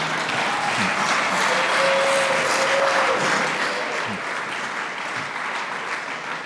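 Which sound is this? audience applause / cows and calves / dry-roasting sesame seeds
audience applause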